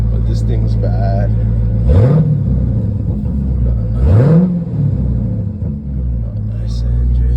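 A Dodge Charger Hellcat's engine revs twice, rising and falling in close succession over a loud steady idle rumble, with someone talking over it.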